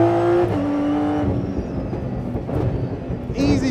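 Aston Martin Vulcan engine at speed while chasing a McLaren P1 GTR, a loud, close roar with a gear change shifting the pitch and a voice talking over it.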